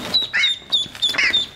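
A goose on a farm gives a few short, nasal honking calls in quick bursts, close and fairly loud, with brief pauses between them.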